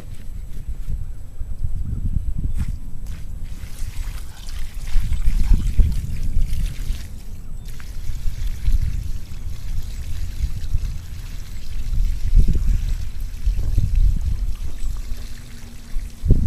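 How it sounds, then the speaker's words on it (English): Water from a DIY pond drain siphon pours into a 5-gallon bucket, a continuous low gushing and splashing with swelling surges, loud and close throughout. "now just get a 5-gallon bucket and start filling it up."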